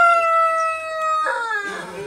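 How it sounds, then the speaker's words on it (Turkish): A village rooster crows loudly and close by, a long clear call with a rising harsh ending, heard alone without speech. "Ne kadar güzel ötüyor. Köyün horozları."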